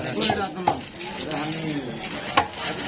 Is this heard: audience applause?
no